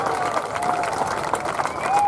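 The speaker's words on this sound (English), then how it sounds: "please give them a big cheer" A crowd at the Torbay Airshow applauds and cheers in a broad, steady wash of clapping, with a voice speaking over it.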